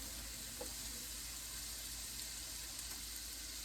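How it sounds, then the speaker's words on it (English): Sugar caramelizes in a pan during the making of tomato bread soup, a steady close sizzle that runs unbroken the whole time, with faint stirring scrapes now and then. "There's our sugar. Kind of caramelizing."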